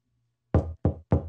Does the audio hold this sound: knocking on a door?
yes